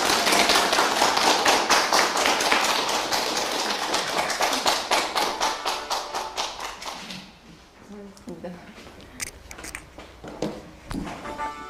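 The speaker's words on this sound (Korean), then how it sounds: "고생해주신 우리 장선철 교수님께 다시 한번 큰 박수 부탁드리겠습니다" Applause from a lecture audience at a hospice volunteer training session, dense and steady for about seven seconds, then thinning into scattered claps, shuffling and faint voices.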